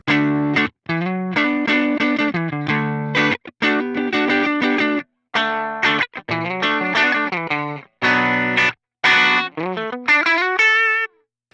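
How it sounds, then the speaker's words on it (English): An electric guitar on the neck pickup runs through an HX Stomp amp model with the treble turned down, playing a loud, effected riff of short phrases and chord stabs with gaps between them, ending on a rising bend. "So that is our bass amp sound"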